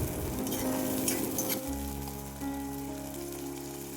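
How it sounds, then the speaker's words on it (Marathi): Onion and tomato sauté in hot oil, producing a steady close sizzle with soft stirring scrapes throughout, no voices heard. "कांदा आणि टोमॅटो तेलामध्ये छान मऊ होईपर्यंत परतवून घेऊया।"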